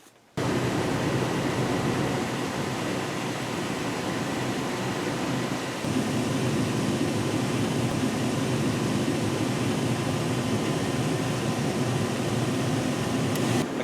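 A 1996-98 Chevy C/K pickup's blower motor runs on high after a new blower relay is fitted, giving a loud, steady rushing roar of air that holds constant throughout with no talking.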